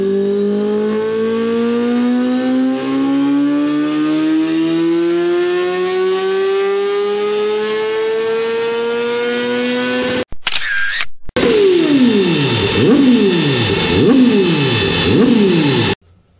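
A Honda CBR1000RR-R sport motorcycle with its sharpest engine map screams through a long, loud dyno pull, revs climbing steadily for ten seconds, then after a brief gap it blips and revs hard in repeated rising-and-falling bursts, close and alone.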